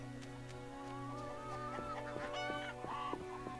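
Geese in The Witcher video game honk and cackle in a few rising, nasal calls, moderately close, over a steady low background drone, with no talking.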